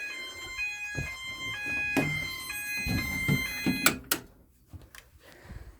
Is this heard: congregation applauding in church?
no